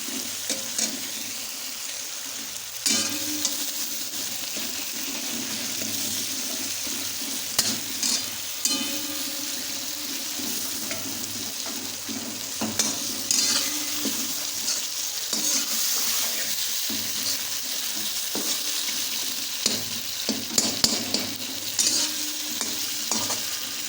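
Chopped okra and tomatoes cook in a pan for a village-style bhindi, sizzling in a continuous, close hiss while a spoon stirs and scrapes through them at irregular intervals, with no talking.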